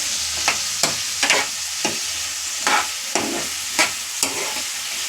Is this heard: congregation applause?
no